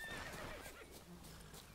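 Roach, Geralt's horse in The Witcher 3: Blood and Wine, gives one loud, close neigh that fills the short moment, with faint hoof clip-clop and game ambience beneath.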